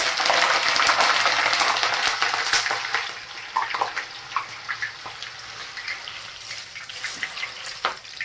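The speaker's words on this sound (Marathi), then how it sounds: "मिरची अशी झाऱ्यात टाकायची आणि मग तळून घ्यायची कारण तेलात मिरची टाकली लवकर निघत नाही" Green chillies frying in hot oil inside a slotted spoon, a steady bubbling sizzle that is loud at first, then settles into lighter crackles and pops.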